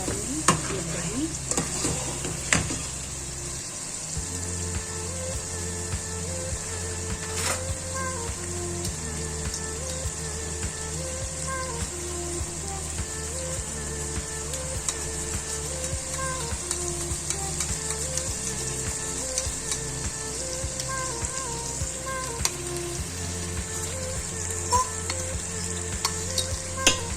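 Okra and beef stew stirred and frying in a pot just after yogurt is added, a steady close sizzle with continuous rhythmic stirring scrapes running throughout, no voices.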